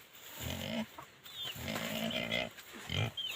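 Pigs on a Nepali farm grunt in several low bursts just before feeding, with chickens faintly clucking nearby; close and fairly loud, no talk.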